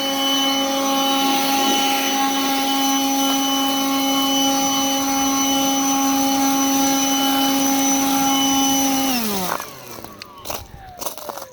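A Ryobi 18V One+ HP jet fan leaf blower runs loud and close with a steady high whine for about nine seconds, then winds down and stops, leaving a few faint clatters.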